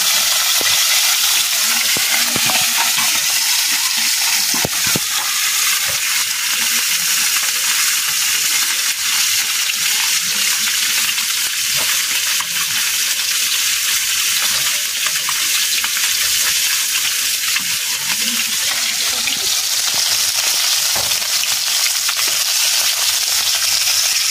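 Ingredients sauté in a hot pan, giving a steady, close, continuous sizzle with scattered scrapes and clicks of stirring throughout, no voices.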